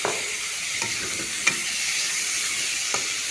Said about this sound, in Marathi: तर एक व्यवस्थित परतून घेते।